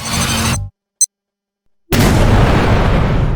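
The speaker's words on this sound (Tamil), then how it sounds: "பினியாட்டாக்குள்ள நிஜமான குண்டு இருந்திருக்கு. அது இந்த சுவரையே தகர்த்துடுச்சு." A bomb hidden inside a superhero piñata blasts through a wall. The loud roar cuts to silence and a brief click, then a heavy, sustained explosion rumble erupts at full volume.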